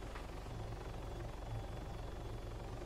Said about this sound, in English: hey, there's a helicopter